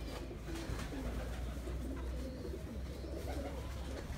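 A female pigeon coos in low, throaty murmurs against a steady ambient rumble, faint and continuous with no clear breaks.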